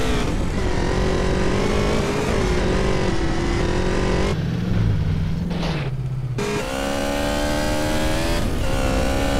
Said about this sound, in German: Ich stoppe euch das Motorrad hier auf Verdant Meadows